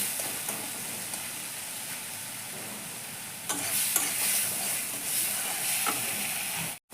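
Spice masala sautéing in oil in a pan over a low gas flame, a steady soft sizzle with stirring scrapes, growing a little louder midway with a few sharper clinks, continuous and close.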